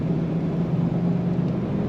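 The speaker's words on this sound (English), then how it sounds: "Very nice running truck." A 1996 Ford F-150 Eddie Bauer extended-cab 4x4 truck idles with a steady low engine hum and drone, close and unchanging throughout.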